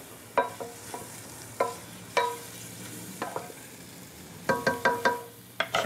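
Mustard seeds hit a hot pan and start popping, with scattered sharp crackles and ticks coming in small irregular clusters over a faint background sizzle.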